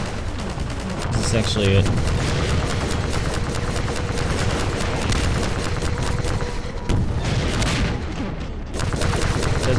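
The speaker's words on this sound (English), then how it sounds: "Everyone's shooting at it, and I can't hit it." Dense, continuous gunfire fills a Half-Life 2 battle against a towering Strider, with rapid automatic bursts and booming impacts layered together, loud and close, while a person talks briefly partway through.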